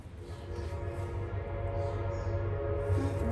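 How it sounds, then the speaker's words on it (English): A train rumbles steadily past, a continuous low roar with tonal hum and faint horn-like tones, moderately close and filling the whole stretch without talk. "the train wanted to come by and say hi"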